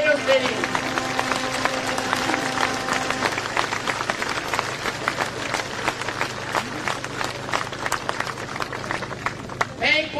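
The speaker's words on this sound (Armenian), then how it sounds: "ուզում եմ մեկ անգամ ևս ծափահարենք մեր հերոսներին" A crowd at a memorial gathering for fallen heroes, led by a holy father, breaks into sustained applause. Dense, steady clapping carries on for about ten seconds, with a faint tone at the start.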